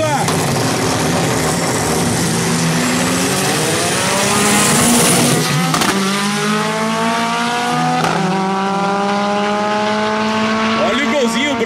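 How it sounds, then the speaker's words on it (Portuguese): A naturally aspirated white Volkswagen Gol race car screams past at a drag race in Guaporé, loud rising and falling engine notes with gear changes and a passing sweep, while a commentator talks excitedly over it. "Olha o golzinho branco, valente, aspiradão, meu."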